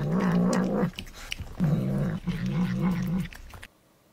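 A cat growls in long, loud, wavering low rumbles, two drawn-out bouts split by a short pause, close to the listener, before cutting off to quiet.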